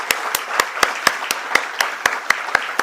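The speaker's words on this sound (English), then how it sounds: "let's have a thunderstorm applause for the founder and managing director of GNG Electronics Limited, Mr. Sharat Khandelwal." Applause at a stock exchange listing ceremony for GNG Electronics Limited, heard as a single person's sharp, evenly spaced hand claps, roughly four per second, loud and close with no other voices.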